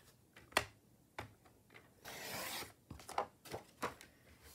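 Craft paper being cut with a sliding blade trimmer, a soft rasping glide in the middle between faint taps and small handling noises, close and quiet.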